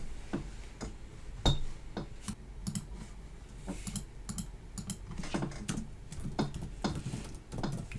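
Code typed in C++ on a computer keyboard, with rapid clicking keystrokes in uneven bursts and a few heavier key thumps, close and clear with no voices.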